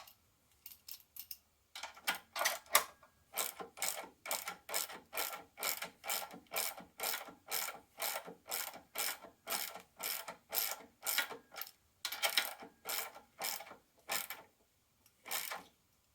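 A ratchet spanner clicks in quick, steady bursts while nipping up 5/8 bolts on the independent rear suspension of a 1994 Jaguar XJS V12, the ratcheting close and clear with short pauses between strokes.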